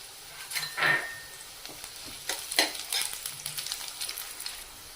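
Chopped garlic cloves hitting hot oil for Chicken 65, a couple of loud sizzling bursts followed by a quieter, crackling fry with a light clink of a utensil.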